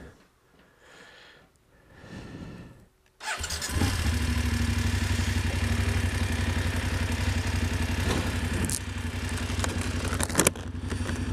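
A BMW 850 GSA motorcycle engine cranks and catches after a quiet few seconds, then settles into a loud, steady, close idle with a deep rumble that holds to the end.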